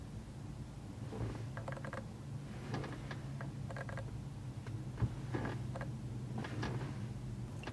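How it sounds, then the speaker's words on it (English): Faint, irregular clicking and light mechanical ticks sound in scattered bursts over a low steady hum in a quiet room. "can you hear that clicking?"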